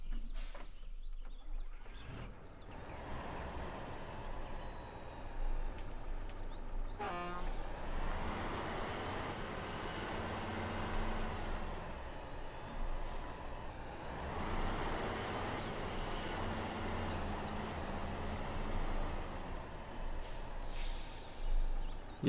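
Heavy Tatra T-815 8x8 truck engine from the 1980s, simulated in the off-road driving game MudRunner, rumbling steadily with a deep drone that swells and fades, plus brief horn-like toots, and no talking.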